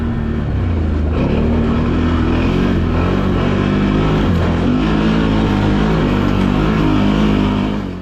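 A Can-Am Outlander 1000 XMR ATV rides across frozen ice, its big engine droning loud and close at low, steady revs throughout, with a slight rise in pitch partway through.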